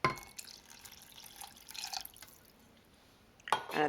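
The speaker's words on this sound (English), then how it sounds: "Add also 1 cup of water." One cup of water is poured into a pan of mater paneer, heard as faint splashing and trickling with a louder splash at the start and another near the end, no talk.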